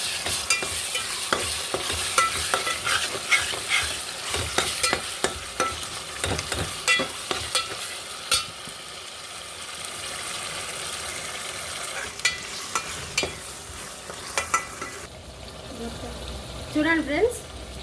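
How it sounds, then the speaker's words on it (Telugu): Masala for Kadapa-style fish biryani fries and sizzles in a pan while a spoon scrapes and stirs it in repeated close, clattering strokes, with a steady hiss underneath and brief speech near the end. "బాగా ఫ్రై అయింది కదండి మసాలా."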